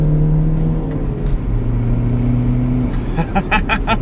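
A BMW 123d E82 coupé's diesel engine accelerating, a steady low drone with rising harmonics as it pulls, heard from close by with a brief burst of faint higher-pitched noise near the end.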